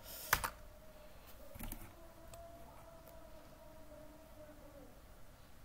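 Computer keyboard typing, a few quick close key clicks at the start and another short burst after, then quiet room tone.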